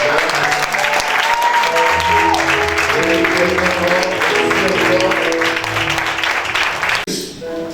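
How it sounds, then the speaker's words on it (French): Church congregation applauding and cheering loudly for the Lord at a Sunday morning service, dense sustained clapping and voices with music underneath for about seven seconds before a sudden drop. "je voudrais qu'on acclame le Seigneur très fort ce matin."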